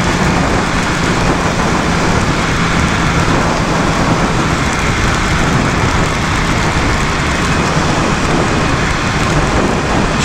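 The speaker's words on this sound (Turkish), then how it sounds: "Yağmur başladı yağmur!" Heavy rain pours steadily alongside a BMW S1000RR motorcycle during a downpour with thunder, a loud, dense, continuous hiss with low rumbling underneath and no voices.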